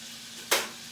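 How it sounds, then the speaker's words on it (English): Chicken frying in a pan gives off a sudden burst of sizzling halfway through that fades over about half a second, heard alone against a quiet kitchen background. "This chicken might take a minute to fry"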